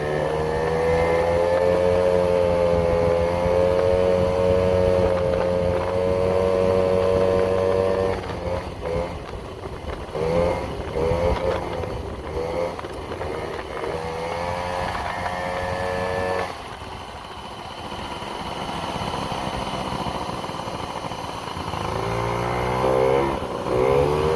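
Yamaha Jog scooter's small engine running and revving close by, a buzzy, rising and falling drone with a dip partway through before building again, alone without talk.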